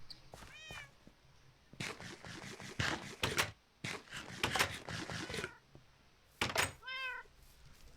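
Cats meow in a Minecraft-style server game, a few short distinct meows at the start and end, with clicking and thumping game or keyboard sounds in between, close and moderately loud, no talking.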